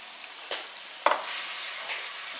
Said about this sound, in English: So now we're going to stir in 1/4 cup of taco seasoning.